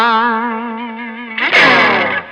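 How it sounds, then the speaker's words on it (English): An electric guitar runs through a wah pedal combined with a Tube Screamer overdrive. A sustained, slightly wavering distorted note rings out, then a strummed chord erupts with a vocal-like wah sweep and trails off. "let's move on to the wah pedal. If you combine it with the Tube Screamer, you will sound more vocal than anything else"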